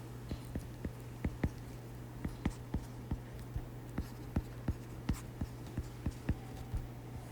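Chalk taps and strokes an equation onto a board in a quick irregular rhythm of sharp clicks over a steady low hum, close and fairly clear.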